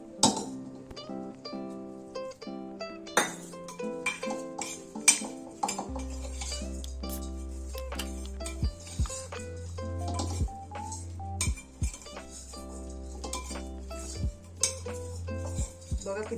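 A spoon scrapes and clinks against a metal pan as Mangalorean pohe (flattened rice) is stirred with its seasoning tempering. Irregular light taps and knocks come close up over a quiet low hum, with no voices.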